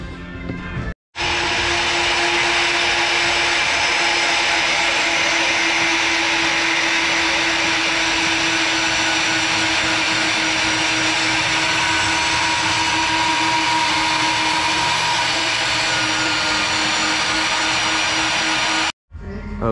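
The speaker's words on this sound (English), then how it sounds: "I'm about to put it through the bandsaw" A bandsaw cuts through a Mazda Miata valve cover, producing a loud, continuous grinding whine that holds steady for nearly the whole stretch between brief silences at the start and end.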